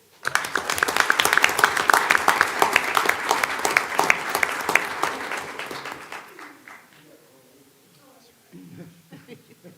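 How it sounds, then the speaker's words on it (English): An audience at a school board meeting claps for students, a dense burst of applause that fades after about six seconds into a few scattered claps and murmuring voices. "if you'll give these Winder Bear students one more round of applause"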